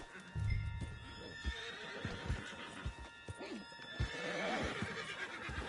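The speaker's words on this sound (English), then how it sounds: "Put Strauss on the back of John's horse and let's get out of here!" A horse whinnies over the steady clip-clop of hooves in the video game Red Dead Redemption 2, with a low rumble and a second neigh later on, all fairly quiet and close.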